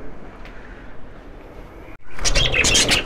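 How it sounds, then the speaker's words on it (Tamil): Pet lovebirds in a home, a few quiet chirps at first, then a burst of loud, busy twittering and chattering from several birds close by. "ஓகே ஃப்ரெண்ட்ஸ், இதுதான் என்னோடய லவ் பேர்ட்ஸ்."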